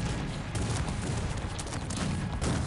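Massed gunfire with cannon support rolls through a Cossacks 3 battle between Turkey and Algeria, a dense, unbroken crackle of volleys and booms that fills the whole stretch without a pause.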